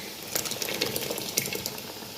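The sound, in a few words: pouring blended tomato into a pot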